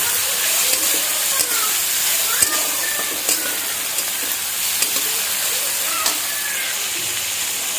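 Onion and tomato frying in a pan for egg masala Maggi noodles, giving a steady close sizzle with occasional stirring scrapes throughout.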